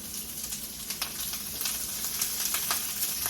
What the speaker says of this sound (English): while I have the onions freshly cooking